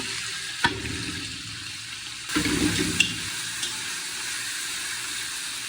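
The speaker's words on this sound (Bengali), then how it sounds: "মাশাআল্লাহ, আমাদের তেল গরম হয়ে গেছে। এখন আমরা দিয়ে দিব মিডিয়াম সাইজের 4টা পেঁয়াজ আছে, সেটাই দিয়ে দিব।" Four medium onions hit hot oil for a Saudi-style camel meat kabsa, bursting into a loud, close sizzle with sharp crackles near the start and again midway, then settling into a steady frying hiss with no talking.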